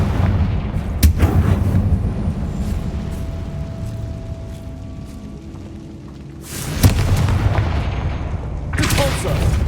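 A Confringo blasting spell explodes in a wizarding video game, with deep booming blasts and rumbling bursts that come and go over a continuous low game backdrop.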